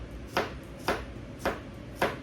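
A knife slicing peeled garlic cloves into thin slices on a board: four crisp, evenly spaced cuts about half a second apart, quiet and close, with no talking.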